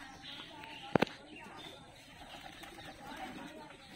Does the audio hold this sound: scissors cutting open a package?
no